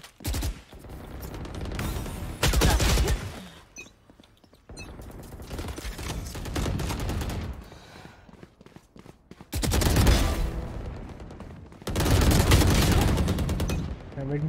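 Gunfire in the Valorant video game comes in several loud, sharp bursts of rapid automatic shots separated by quieter gaps, close up and dominating the mix.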